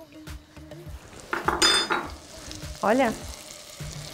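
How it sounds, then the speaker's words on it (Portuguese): Unsalted butter stirred into very hot toffee caramel in a pan, with clinks and scrapes of a utensil against metal over a bubbling sizzle and a few brief spoken words. "A gente vai ficar mexendo essa manteiga até ela derreter por completo"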